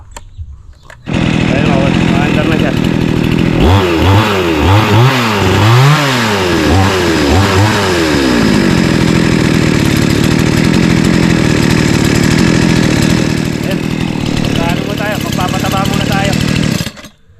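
A chainsaw roars loudly and continuously at close range, revving up and down early on, then holding a steady high whine; voices are heard over it.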